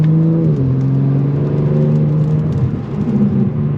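A 740 whp BMW G82 M4 with straight metal pipes and a tune accelerates hard from inside the cabin, its engine note a loud, steady drone that drops in pitch at a shift and then climbs again.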